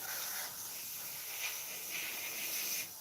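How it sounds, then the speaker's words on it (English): Black spray paint hisses from a can onto a scale model aircraft, aimed down into the landing gear, in a steady close hiss with brief stronger puffs. "you want to kind of spray down into the landing gear"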